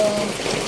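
Heavy rain falling on a house roof during a storm, a dense steady hiss that stays level and fairly loud for a brief moment.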